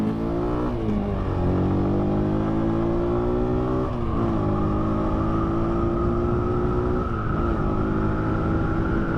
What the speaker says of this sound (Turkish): Ve motorun hızlanmasına bakalım arkadaşlar.